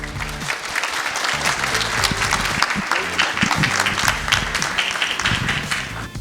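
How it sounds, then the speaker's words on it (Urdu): Dense, sustained clapping from a large crowd, loud and continuous throughout. "آپ کی بہت ساری تالیوں میں لیٹس ویلکم اقرار الحسن آن اسٹیج."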